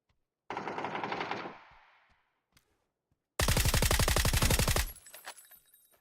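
Rapid automatic gunfire in the PUBG video game comes in two loud bursts with a single shot in between, the second burst closer and harsher, fading into echo.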